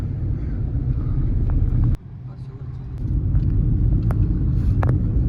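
Car driving along the Konkan coastal highway by the sea, a steady low engine and road rumble heard from inside with wind buffeting, while people talk over it.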